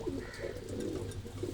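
Pigeons cooing close by, a steady low murmur of overlapping coos filling the short stretch without any talk.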